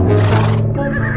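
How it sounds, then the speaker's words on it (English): A horse neighs loudly and close in an animated children's animal scene: one strong whinny with a harmonic, rising-then-falling tone that trails off into a quieter breathy tail. No talk. "This horse is galloping towards the blue container."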